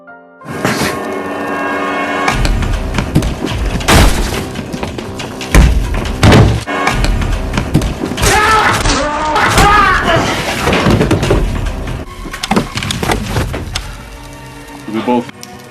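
A fist fight in the 2015 film Shark Lake, with heavy punches, thuds and impacts mixed with shouting voices and dramatic soundtrack music over a loud, busy scene lasting about fifteen seconds.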